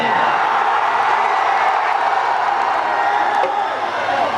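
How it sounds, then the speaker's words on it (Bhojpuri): A huge crowd at an outdoor Bhojpuri music concert in Samastipur roars and cheers continuously, a dense wall of shouting and clapping at loud, sustained volume. "एक बार वो लोग अपना खातिर एकदम जोरदार हल्ला करके ताली बजाए"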